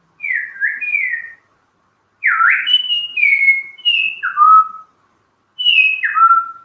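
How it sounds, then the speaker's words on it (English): Iora in Kanha National Park whistling: three bursts of clear, sliding whistled notes separated by short pauses, loud and close, with no other sound. "so that's a whistle of Ayora."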